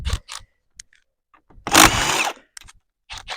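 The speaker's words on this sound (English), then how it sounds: "now we just remove our lug nuts" A power tool zips off the lug nuts on an Arctic Cat Diesel 700 tracked vehicle, with a loud ratcheting impact burst in the middle, shorter bursts around it, and clanks between them.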